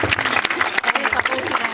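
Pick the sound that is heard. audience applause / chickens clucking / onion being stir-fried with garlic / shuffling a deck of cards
audience applause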